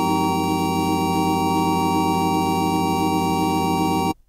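A steady, bright Massive synthesizer tone with a buzzing, resonant filtered edge holds unchanged for about four seconds, then cuts off abruptly.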